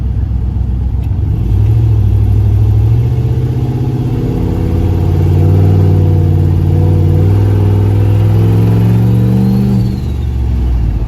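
A turbocharged Chrysler LS Caravan with a seized wastegate drives along, its engine a loud, close, droning hum that rises in pitch under gentle acceleration and eases off near the end.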